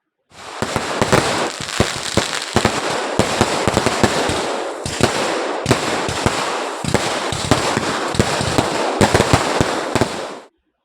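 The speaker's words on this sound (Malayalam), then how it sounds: "കൂടെ പടക്കങ്ങൾ പൊട്ടിച്ചും പൂത്തിരികൾ കത്തിച്ചുമാണ് മലയാളികൾ വിഷു ആഘോഷമാക്കി വരവേൽക്കുന്നത്" Firecrackers burst in a dense, rapid string during a Vishu celebration in Kozhikode, Kerala, loud sharp cracks crowding over one another for about ten seconds before stopping abruptly.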